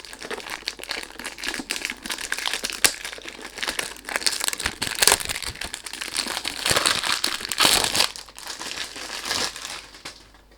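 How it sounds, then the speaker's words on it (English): Perfume packaging crinkles and crackles in irregular bursts as it is unboxed up close, with occasional sharper rustles and tears. "sorry about the noise when you do unboxing"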